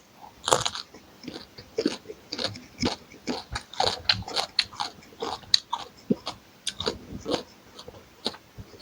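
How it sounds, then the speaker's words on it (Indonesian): Crunchy bites and chewing of raw vegetables (lalapan) eaten with tomato sambal, a close, quiet string of crisp irregular crunches and mouth sounds with no talk. "mau makan lalap sama nih sambal tomat"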